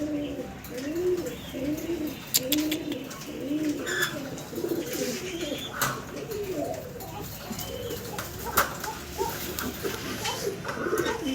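A pair of Lavender Chuachandan pigeons coo in a repeated rolling rhythm, close and fairly soft, with a few sharp chirps and small clatters scattered through.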